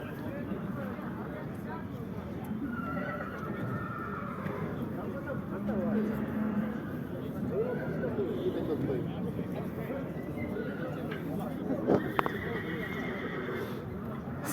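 A stallion at the Karakol livestock market neighs in several drawn-out whinnies, with hoof clip-clops and a steady crowd murmur with voices throughout.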